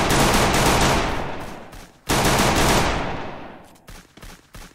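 Automatic gunfire fills the Free Fire battle royale game in two long, loud bursts of rapid shots, split by a brief pause, then trailing into a few scattered single shots.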